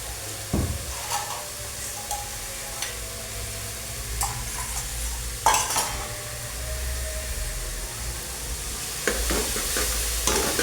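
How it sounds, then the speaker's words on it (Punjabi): Onion-ginger paste tempering with masalas roasting in hot oil over a high gas flame for mutter paneer, a steady sizzle with a spoon stirring and scraping the pan and a few sharp metal knocks. "ਇਹਨੂੰ ਚੰਗੀ ਤਰ੍ਹਾਂ ਆਪਾਂ ਭੁੰਨ ਲੈਣਾ ਆ ਯਾਨੀ ਗੋਲਡਨ ਬਰਾਊਨ ਜਿਹਾ ਆਪਾਂ ਜਿਹੜਾ ਨੂੰ ਕਰ ਲੈਣਾ ਆ"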